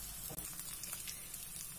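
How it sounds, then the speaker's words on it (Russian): Pork steak sizzling in a frying pan, a steady close crackle of hot fat running without a break. "третий стейк у меня дожаривается. Видите, я слегка тут обжариваю"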